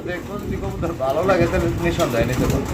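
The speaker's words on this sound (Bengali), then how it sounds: "এখানে ডান দিকে যে কবুতরটা আছে এটা ডাকাডাকি করতেছে" Soft, repeated pigeon coos sound close by, mixed with a low murmur of voices in the background.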